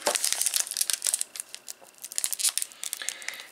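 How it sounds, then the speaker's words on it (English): A Pokémon card booster pack wrapper is torn open and crinkled up close, with bursts of sharp foil crackle and ripping that come in an uneven rhythm. "these packs are so annoying to open"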